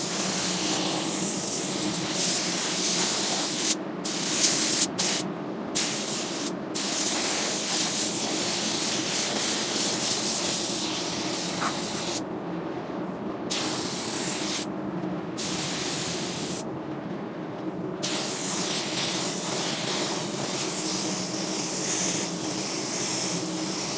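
A spray gun lays one wet coat of paint on an inside panel with a steady, loud, broadband hiss that keeps going, broken by several brief pauses and short gaps where the trigger releases. No talking.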